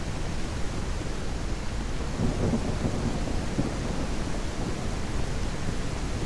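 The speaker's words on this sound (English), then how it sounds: "the rain should definitely mask my footsteps from the zombies" In the zombie survival game Surroundead, heavy rain hisses as a dense, constant wash of noise, with low rumbling thunder rolling underneath. It is steady and loud throughout, and no voices can be heard.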